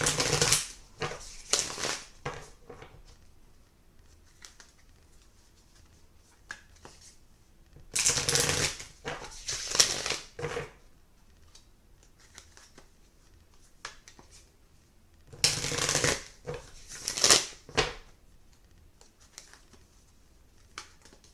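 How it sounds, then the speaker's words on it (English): A Disney Villains tarot deck is shuffled by hand in three bursts of brisk riffling and card flutter, separated by quieter handling, close to the listener. "Pretty adamant on the shuffling today."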